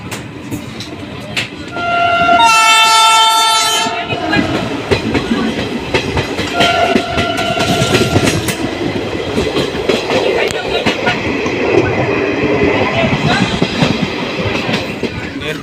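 Passenger train running between Dhola Junction and Bhavnagar, heard from inside with a loud continuous rumble and rhythmic wheel clatter, a bright horn blast near the start and a second shorter horn tone later.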